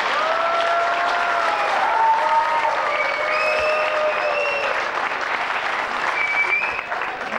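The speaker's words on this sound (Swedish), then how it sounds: "Icke-rökarna, applådera nu." Non-smokers in a comedy-club audience break into sustained applause, a loud, full crowd clap with some whoops and cheers riding on top, tapering slightly near the end.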